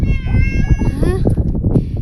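A cat meows loudly and up close in a long, wavering cry while people talk over it.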